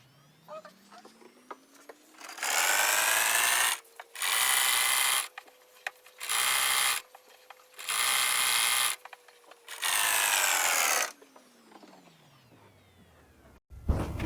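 A sewing machine stitches fabric for mermaid-skirt hip padding, running in five loud, steady bursts of a few seconds each, separated by short pauses, close up with no talking.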